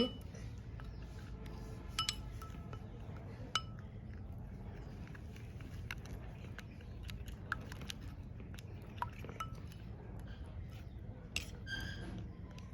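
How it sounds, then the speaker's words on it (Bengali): Face-pack ingredients with honey mixed in a bowl with a spoon, faint clinks and light scraping taps at irregular intervals over a low steady background hum. "এগুলো আমি ভালোভাবে মিশিয়ে নিচ্ছি"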